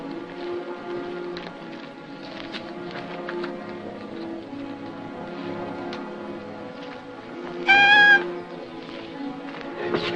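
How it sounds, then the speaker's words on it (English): A novelty squalling-cat device in a 1948 western lets out one short, loud, wailing squall near the end, rising above a steady musical background. "Squidgy squalling cat."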